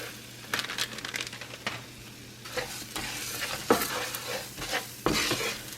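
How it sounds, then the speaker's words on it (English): Garlic and scallion whites sizzle in a pan under repeated stirring, with intermittent scraping and clinks of a utensil against the pan, close and moderately loud, no speech. "I've got the garlic and the scallions, the white part, in here."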